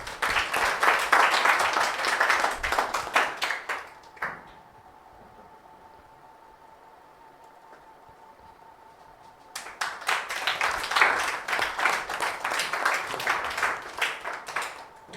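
An audience at a school results celebration gives a student a burst of loud, dense clapping, which fades to a quiet pause and then swells into a second strong round of applause.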